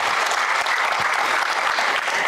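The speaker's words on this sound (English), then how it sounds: "So let's have a round of applause for her." An audience at a summit applauds, a dense, steady burst of clapping from many hands filling the room for a couple of seconds, close and loud with no talk over it.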